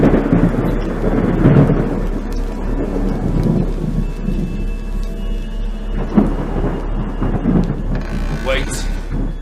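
Heavy rain pours steadily while low thunder rumbles and rolls through, with a sharper crack late on.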